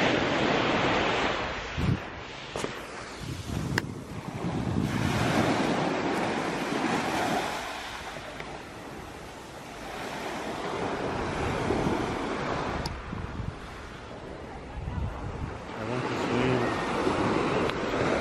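Surf rolls and breaks on a cool beach around 15 degrees, a continuous wash of waves with heavy wind buffeting the microphone, swelling and easing throughout with no talking.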